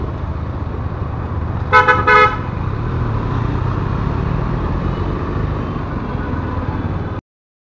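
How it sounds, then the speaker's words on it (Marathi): Car horn fitted to a Honda Dio scooter gives two quick loud toots over steady road and engine noise from nearby traffic, after which the rumble carries on before cutting out. "डिओ मध्ये त्याने 4 व्हीलरचा हॉर्न लावून घेतलेला."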